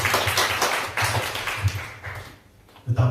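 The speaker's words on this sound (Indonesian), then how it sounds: "Berikan tepuk tangan untuk Tuhan Yesus." A church congregation claps together at a Pentecost service, a dense burst of hand claps that thins out midway, pauses briefly, then picks back up near the end.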